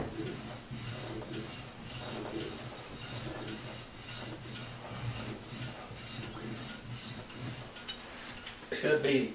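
Repeated rhythmic rasping strokes as an ivory blank is filed into a guitar fret nut, close and steady with regular back-and-forth passes.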